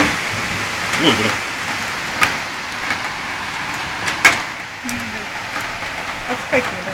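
Hailstones and rain fall in a Moscow storm, a constant patter broken by a few sharp, distinct hits and clacks on nearby surfaces.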